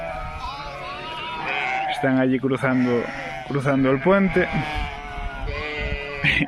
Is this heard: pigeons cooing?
no